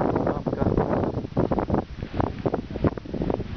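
Steady wind buffeting the microphone while boating against the wind on a lake among low trees in northern Finnish Lapland, above the Arctic Circle, with gusty rumbling bursts and possible water lapping throughout.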